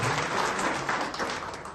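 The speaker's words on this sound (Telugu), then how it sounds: "ప్రత్యేకంగా చప్పట్లతో ధన్యవాదాలు తెలపాల్సిందిగా మనం కోరుతున్నాం" A crowd at a gathering applauds, a short, steady burst of clapping from many hands that carries on without a break.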